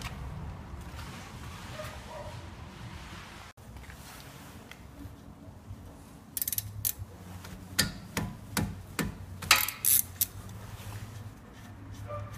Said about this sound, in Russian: Откручиваем нижнее крепление и поднимаем суппорт вверх.